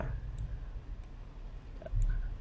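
Computer mouse clicks while working in video editing software, a few sharp, quiet clicks spaced apart over a low background hum.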